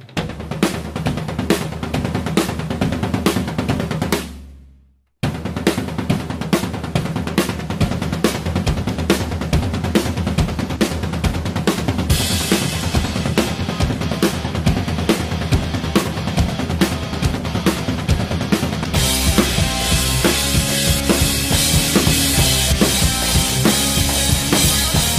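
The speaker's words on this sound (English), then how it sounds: "because it's an open snare hit and it sounds like this." Drum intro of a metal song with open snare hits, played with the full band: loud, dense hits and cymbals, a brief dropout near five seconds, then continuing at full intensity.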